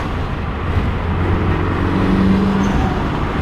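A car fitted with an HKS exhaust idles or runs steadily nearby, giving a constant low droning engine tone with a faint hum rising slightly partway through.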